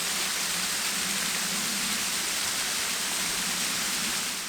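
Pwll-y-Wrach waterfall roars as a dense, steady rush of falling water, loud and unbroken from start to finish with no voices.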